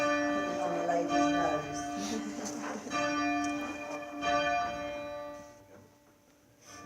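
Church bells rung by ropes in a tower, the bells hanging down before being swung up on wheels; sustained overlapping metallic tones ring steadily throughout while people talk nearby.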